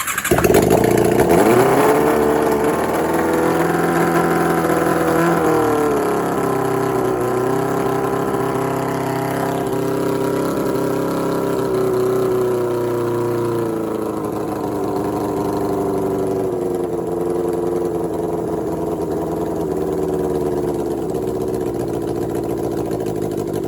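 A Suzuki GSX-F motorcycle's spare engine, fitted to a damaged parts bike, runs after a missing relay was replaced: a loud, close, steady idle with a brief rev at the start, then a slowly wavering throb.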